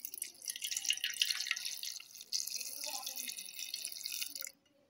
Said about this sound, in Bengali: কপিগুলো জলে ধুয়ে নেব